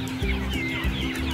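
Young garden chickens in a lamp-warmed brooder cage on a farm cluck in a few short, close bursts over a low, steady background.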